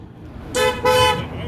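Car horns honking at a freedom convoy rally in Ottawa: two loud, close blasts of roughly a quarter to half a second each, separated by a short gap, over a background murmur.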